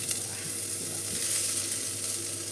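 Shiitake mushrooms hitting hot garlic and ginger in a pan, a continuous close sizzle with soft shifting crackles and no talk.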